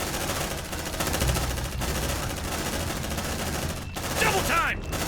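Dense squad weapon fire in Aliens: Dark Descent rattles on continuously, loud and close, with voices breaking in briefly near the end.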